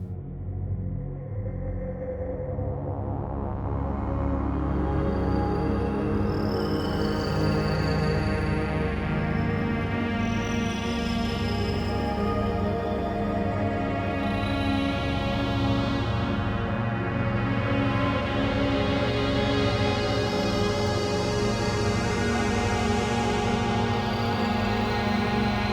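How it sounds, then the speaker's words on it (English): Layered synth pad regions, each sounding different notes at different times, swell into a thick, evolving wash that gradually brightens and keeps sustaining for over twenty seconds, steady and alone without any voices. "we can have a fully layered, fully textured sound where each of the sounds can be triggered by a different note at a different time"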